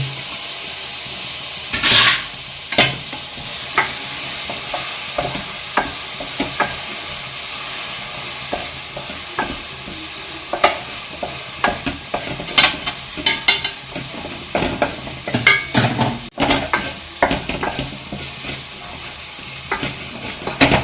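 Onions and tomatoes fry with garlic and ginger in a hot pan, a loud, continuous sizzle and hiss close up, broken by repeated scraping and stirring of a spoon against the metal.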